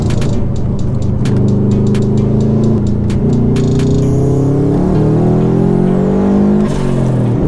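A modified 1998 Subaru Impreza engine drones steadily from inside the car while driving, its tone rising and falling through the gears, with clicks and a faint whine above the engine note.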